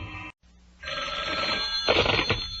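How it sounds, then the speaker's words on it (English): A cartoon fairy phone rings with a steady electronic bell trill, loud and continuous after a brief silent gap at the start, with no talk over it. "Fairy phone."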